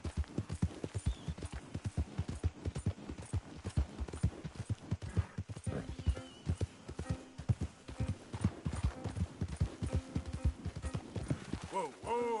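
Rapid hoofbeats clop steadily as a horse moves along in the video game Red Dead Redemption 2, a continuous rhythmic patter with a faint voice speaking underneath at times.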